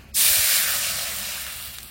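Water poured into a hot wok (kadai) after frying lentil bori in oil bursts into a loud, close hiss that starts abruptly and slowly fades over two seconds, with no talk.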